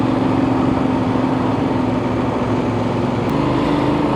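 The engine of a Benelli 800 Trail motorcycle hums steadily under light throttle, a constant low drone with a smooth even note and wind rush heard from the rider's position.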